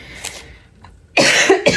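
A person gives two short, close coughs in quick succession, breaking a near-silent room.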